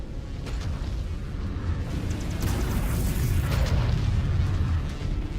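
In the MechWarrior 5 video game, a battle mech is destroyed by missiles, a dense, sustained rumbling blast that fills the whole stretch, loud and continuous with no talk over it.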